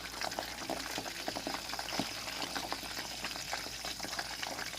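Crispy pork belly deep-frying in hot oil, a dense steady bubbling with scattered sharp pops crackling throughout, close and fairly loud with no talk.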